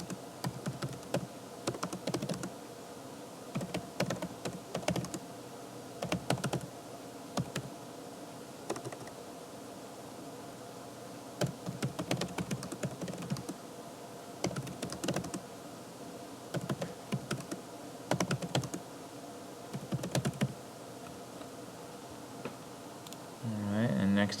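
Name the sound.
typing on a computer keyboard into a spreadsheet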